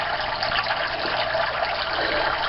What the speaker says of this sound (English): spout that releases the water back into the tank.